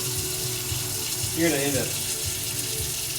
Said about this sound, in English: we're going to go ahead and get our pot of water here filled